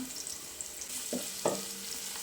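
Cashews, sliced onion and green chilies split lengthwise fry in a pan with a soft, steady sizzle, broken by a couple of brief stirring clinks.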